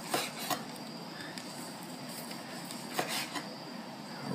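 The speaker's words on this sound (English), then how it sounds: "I'm going to start slicing it." A knife slices through a cooked medium steak on a board, producing soft scraping strokes with a few sharp clinks of metal on plate, close and quiet with no talk.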